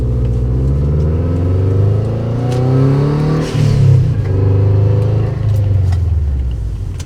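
Subaru WRX engine running while driving at night, a steady low drone from inside the cabin with rising and falling revs through gear changes.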